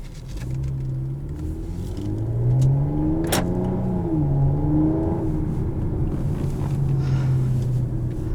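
A 2015 Chrysler 200C AWD engine revs up and down with rising and falling pitch, a deep throaty growl close by, steady and loud throughout.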